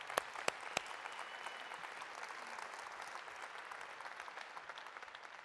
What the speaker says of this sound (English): could we just have another round of applause for the candidates for being here?